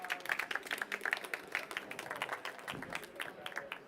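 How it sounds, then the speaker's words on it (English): A conference audience greets a speaker on education technology with a round of applause, a crisp patter of hands of modest size, clapping in uneven bursts that start to thin out toward the end. "a warm round of applause"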